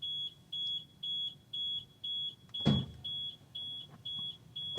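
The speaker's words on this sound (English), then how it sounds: "My car alarm just started going off." A car alarm going off, sounding a steady, loud run of high electronic beeps, about two per second, with a brief dull thump partway through.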